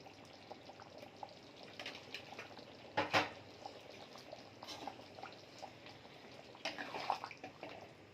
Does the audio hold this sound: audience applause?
no